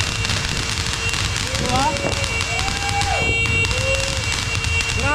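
New Year fireworks going off nearby, with crackles, pops and rising whistles over steady background noise while people chat close by.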